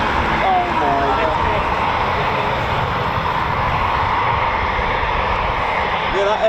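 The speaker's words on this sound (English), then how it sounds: "that F-35 was great" An F-35 fighter jet flies past near RAF Coningsby, a steady, broad roar of jet noise filling the whole stretch, with faint voices underneath.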